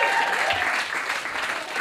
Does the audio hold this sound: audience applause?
yes